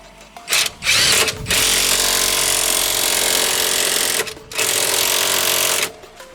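A cheap power impact gun whirs loudly in a long, steady burst after two short bursts, then runs in another long burst during coilover installation on a Mitsubishi Evolution 7.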